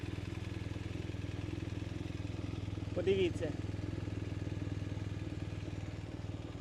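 A 2021 BMW R1250R motorcycle engine idles with a smooth, steady low rumble, close by, while a voice briefly speaks over it partway through.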